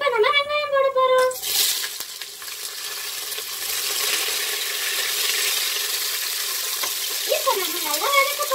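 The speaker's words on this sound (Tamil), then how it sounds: "இப்போ நம்ம நல்லா வதக்க போறோம்" Onions sautéing in a pan for spinach (arai keerai) biryani, a broad steady sizzle with faint stirring that rises abruptly after a short tonal sound at the start and runs on to the end.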